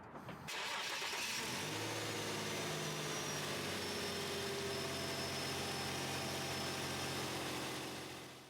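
An Infiniti EX35 engine cranks and catches, then settles into a steady, fairly loud idle, a continuous hum that runs on for several seconds before fading slightly at the end.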